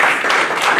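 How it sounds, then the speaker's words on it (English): Applause from an audience at a school board meeting marking Energy Star recognition for four schools, a dense, steady patter of many hands clapping close by with no gaps. "Yes, we do deserve a round of applause for the 4 schools"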